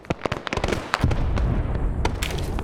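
Artillery shells explode on a hillside in a Vietnam War video game, a rapid cluster of sharp, loud blasts and pops that settles into a dense, rumbling barrage.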